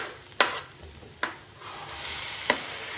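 Tomatoes and green chillies fry in a pan, giving a soft, steady sizzle broken by three sharp scrapes of a spatula stirring the mix.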